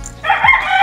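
A gamecock stag rooster crows once, a loud, close, drawn-out call standing alone with no voices.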